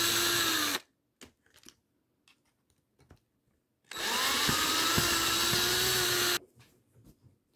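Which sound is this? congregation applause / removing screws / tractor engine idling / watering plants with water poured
removing screws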